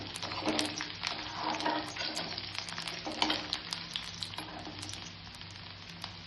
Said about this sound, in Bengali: তেল দিলাম, তেলের মধ্যে আমি রসুন কুচি দিলাম।